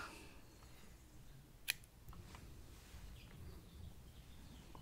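An electronic speed controller wire for an RC car is cut to length, giving a single sharp snip close by, loud against a quiet, slightly noisy room background, with no speech.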